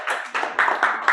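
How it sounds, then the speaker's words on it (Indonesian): A classroom of students claps for a student group, a few quick rhythmic bursts of clapping in groups, close and fairly loud, with brief gaps between bursts. "tepuk tangan untuk kelompok Diki"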